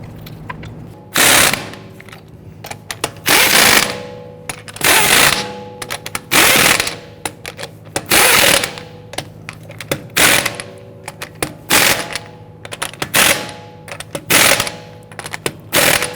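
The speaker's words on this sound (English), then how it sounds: "Get those lug nuts started. And once we have them all started, we'll go ahead and snug them down." A ratchet snugging down lug nuts on the rear wheel of a 2010–2019 Ford Taurus: loud, close bursts of rapid clicking, repeated about a dozen times with short pauses between.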